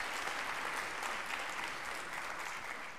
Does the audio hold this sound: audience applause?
yes